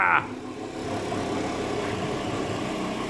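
An Aprilia SR50 Factory DiTech scooter, restarted after sitting for 15 years, runs at a steady, even idle nearby. A short voice opens the clip, then the engine's continuous hum carries on alone.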